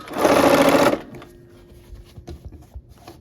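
Sewing machine stitching quilt strip sets: one close, steady mechanical whirr lasting about a second, followed by quiet handling of fabric.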